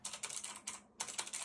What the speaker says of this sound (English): Where are you typing? The keyboard slides under the desk.